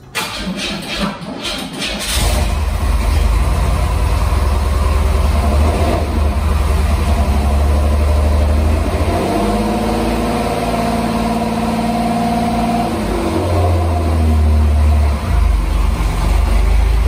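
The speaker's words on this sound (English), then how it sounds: "here is the Fiero now starting for the first time on 6 cylinders" A 1987 Pontiac Fiero GT engine, running on six cylinders after sitting for years, cranks and catches, then settles into a loud, steady idle with low rumble and occasional revving swells, close up.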